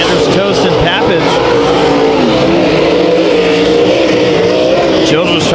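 Race cars roar around a dirt track at KCRP during heat races, engines loud and continuous with shifting revs and whining pitch sweeps, while an announcer's voice talks over the racket.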